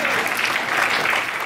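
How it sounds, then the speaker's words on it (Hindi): At a Hindi comedy poetry recital, the audience gives a poet a short, energetic burst of clapping, dense and close throughout the brief moment. "एक बार जोरदार तालियां गौरव चौहान के सम्मान में।"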